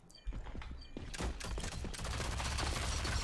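MP7 submachine gun fire during a competitive esports video game shootout: rapid bursts of shots that build into dense, sustained gunfire, loud and close.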